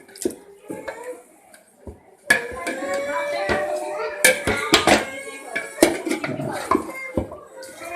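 Nalli nihari meat being stirred and fried in a pot makes metal spoon scrapes and clanks, sparse at first and then busy and continuous, while someone talks throughout.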